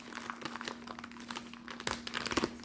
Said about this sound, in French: Et bah on va déballer ça.